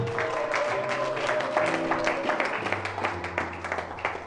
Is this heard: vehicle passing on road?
no